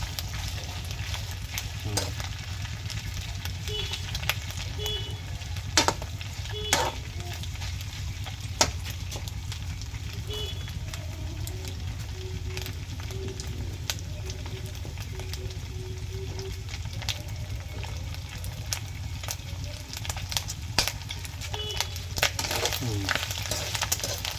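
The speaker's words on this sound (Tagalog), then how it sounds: "halo lang tayo ng halo" Pork rind chicharon fries in oil while being stirred, a constant sizzling crackle with intermittent scraping and clinking of a utensil against the pan.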